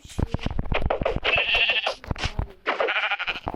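Sheep in a video game bleat in quick, nasal cries, close and loud, overlapping voices of players talking excitedly.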